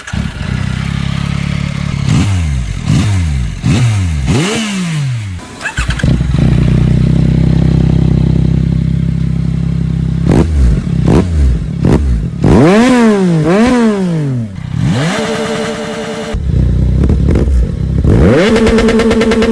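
A 2025 Yamaha R9 motorcycle fitted with a Yoshimura full system exhaust and ECU flash revs repeatedly, loud sharp throttle blips rising and falling in quick bursts, with longer sustained revs and pauses between them.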